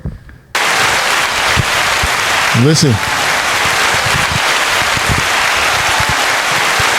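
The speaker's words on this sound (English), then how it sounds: "Giving a round of applause" Applause from a podcast audience runs steadily and loud for most of the clip after a brief quiet start, with a voice speaking over the clapping.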